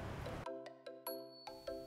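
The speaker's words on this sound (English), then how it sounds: "rang a bell to signal the novices to switch to a standing meditation" A meditation bell is struck several times in a quiet setting, each strike ringing out with a clear sustained tone that overlaps and slowly decays, following a brief stretch of low background noise.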